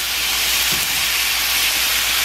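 Ground meat for spicy tacos sizzles steadily in a hot pan while a spatula breaks it up. The hiss is continuous and close, with no talking.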